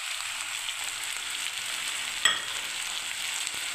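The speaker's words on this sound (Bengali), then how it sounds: "এবার আমি এটাতে কষতে থাকবো মশলা দিয়ে আরও।" Chopped onion, ginger, tomato and garlic paste sauté with spices in a hot pan for a soybean and potato curry, giving a steady, even sizzle with one sharp clink of a spoon midway.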